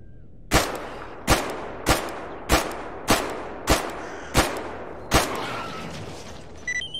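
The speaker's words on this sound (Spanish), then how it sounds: "Disparos por ahí." Distant gunfire in the video game STALKER, eight single sharp shots spaced roughly evenly about a second apart, each cracking loudly then decaying into a reverberant tail.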